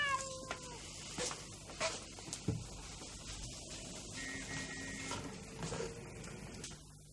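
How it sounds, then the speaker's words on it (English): Several cat meows rise over a busy background of street noise and clatter, with occasional louder knocks and rustles. "They're cats."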